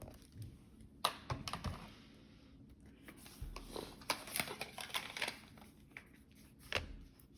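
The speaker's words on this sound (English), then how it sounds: "Typing that in." Quick, uneven keystrokes clatter on a computer keyboard, close up, with irregular bursts and short pauses, no voices.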